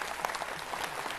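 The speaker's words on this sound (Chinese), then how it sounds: "给自己一个掌声好吗？" A concert audience at a temple charity show in Dajia, Taiwan, breaks into applause: a steady wash of many hands clapping together, fairly distant and soft, with no talking.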